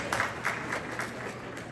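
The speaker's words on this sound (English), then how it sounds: "Please give yourselves a big round of applause." A roomful of physicians and medical workers breaks into applause, a soft, steady wash of clapping that swells in small bursts and stays fairly distant and low in level.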